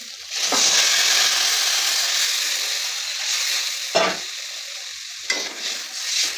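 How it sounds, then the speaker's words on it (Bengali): Loud steady sizzle of potatoes frying in a pan for a tilapia curry, rising as water is poured in, with a few sharp scraping stirs partway through. "এখন আমরা এটাতে জল দিয়ে দেবো।"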